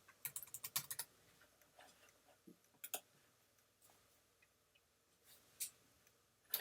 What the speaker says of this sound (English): Just type your comment in and click add.